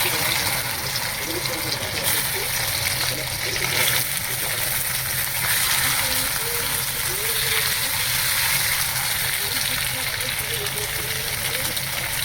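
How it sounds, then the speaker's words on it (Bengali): Thin taro slices frying in hot oil seasoned with cumin, a steady broadband sizzle and crackle running throughout at close range, with intermittent talk over it. "তেল গরম হয়ে গেছে, জিরে দিয়েছি। এবার কচুটা তুলে দেবো।"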